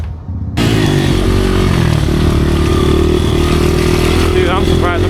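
A small vintage motorcycle engine bursts into a loud, steady run and holds there, close up, with a rising whine near the end.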